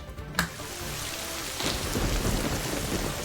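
Steady heavy rain pours down as thunder cracks sharply near the start, then a deep rolling rumble builds and swells under the constant downpour, with nothing else heard.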